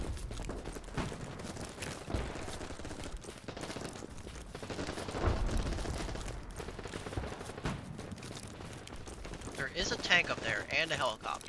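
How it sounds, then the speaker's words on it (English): Gunfire rattles through a BattleBit Remastered match in a busy spread of bursts and single shots, some near and some far. A player talks over much of it. "There's a lot of gunfire over here."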